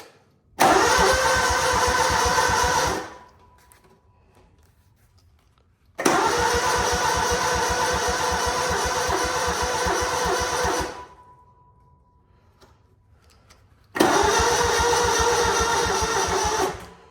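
On a cold winter day, an engine with a weak battery cranks over in three long bursts of several seconds each, with a steady rapid chugging, and a short quiet pause between the attempts.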